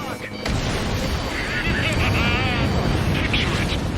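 Artillery shell explosion in Ace Combat 7 during an aerial mission, a loud sudden boom followed by a sustained rumbling roar with jet engine noise and radio voices talking over it.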